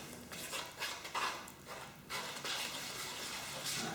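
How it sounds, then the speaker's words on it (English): Carrot cake batter with flour and spices is stirred in a bowl, giving faint, irregular scraping and clinking of a utensil against the bowl with soft wet sloshing, close and quiet. "That's it, mix it as we go."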